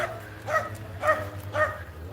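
Three evenly spaced dog barks ring out at moderate distance over a steady low hum, with no talking.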